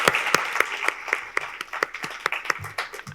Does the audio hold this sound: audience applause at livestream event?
yes